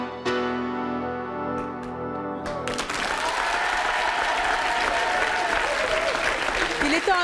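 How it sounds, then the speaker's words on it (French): A television talk show studio audience breaks into sustained, loud applause that begins after a short musical sting and continues steadily to the end. "je propose d'applaudir Marie-Jo."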